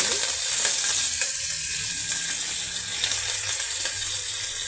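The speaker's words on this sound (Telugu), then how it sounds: "ఈ విధంగా అన్నీ ఫ్రై చేసేద్దామండి" Spices, fenugreek seeds and curry leaves sizzle in hot oil in a pressure cooker for rasam tempering, a loud, steady crackling hiss with faint stirring clicks.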